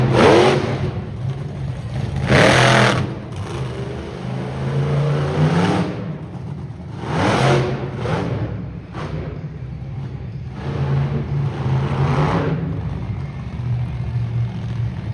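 A big monster truck engine roars and revs repeatedly at a live motorsports show, surging loud several times over a deep rumbling idle.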